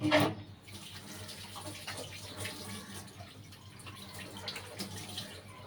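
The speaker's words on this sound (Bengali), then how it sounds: "আমি হাতটা ধুয়ে নিই" Hands being washed under a running tap at a sink, a steady close stream of water with splashing and shifting flow as the hands move, after a brief louder splash at the start.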